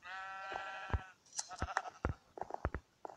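Sheep bleat in the Minecraft game, several short synthetic cries in quick succession over a faint background, with no speech.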